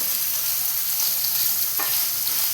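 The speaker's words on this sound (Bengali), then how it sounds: "পনিরটা এপিট এপিট করে একটু ভেজে নেবো" Paneer pieces frying in a pan, turned side to side for fried rice, give a steady close sizzle with a brief soft scrape near the end and no talking.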